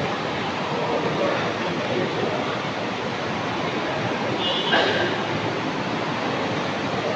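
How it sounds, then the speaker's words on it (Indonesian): Gajah Wong executive train at a station platform in Jakarta, a dense steady rumble and hiss filling the scene at constant loudness, with no clear talking. "Kita naik kereta eksekutif Gajah Wong."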